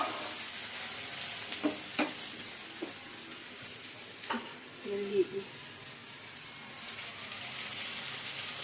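Sweet gola ruti batter sizzles on a tawa in a steady, quiet hiss, broken by a few soft clicks and taps of a utensil, with brief low voices in the background.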